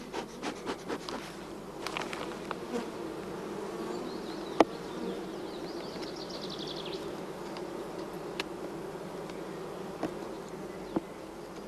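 A honeybee colony raising queens, buzzing as a dense steady hum up close, with scattered sharp clicks and light knocks from handling the hive.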